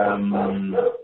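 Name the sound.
dog barking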